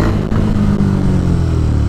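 A Honda motorcycle engine revs loudly and close by in a steady, deep drone that holds one sustained pitch, with no voices.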